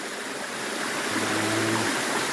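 Water rushing steadily down a small stream channel over rocks where the flow is split by a dam, a continuous close broadband wash with a faint low hum briefly underneath.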